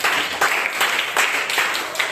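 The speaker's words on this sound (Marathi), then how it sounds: "जोरदार टाळ्या" Loud, dense applause from an audience at a Marathi school quiz show, a continuous burst of clapping that swells in waves and stands alone.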